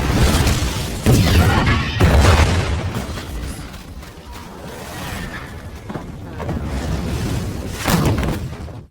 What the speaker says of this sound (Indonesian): dalam hitungan detik, ledakan ageng pun terjadi